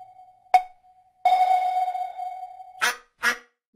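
A duck sound effect from a toddler educational app follows a steady electronic tone, ending in two short, raspy quack-like bursts heard clearly against otherwise quiet surroundings.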